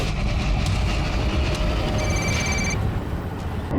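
A phone rings during a call in a Crime Patrol police drama, a short electronic ring tone sounding briefly over a steady rumbling background.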